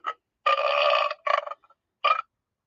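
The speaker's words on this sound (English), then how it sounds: "and then a burp" Burp sound effect from a novelty sound toy or button, a short buzzy electronic belch in a few choppy bursts, loud and isolated against silence.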